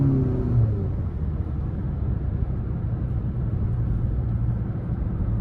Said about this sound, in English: I love the sound from the blow-off valve